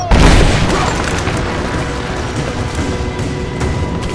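Gunfire and explosions during a firefight in the Rise of the Tomb Raider video game, opening with a loud boom and continuing as a dense, sustained roar of shooting and blasts.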